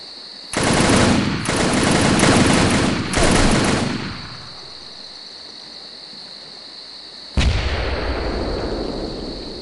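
Automatic rifle fire in the military shooter game America's Army 2.5 on a forest map: loud, close sustained bursts of rapid shots with short gaps, fading out, then one more sharp burst with a ringing tail.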